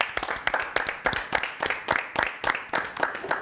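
Clapping in a television studio, with a small group giving a round of sharp, rhythmic claps in quick succession throughout, close and fairly loud.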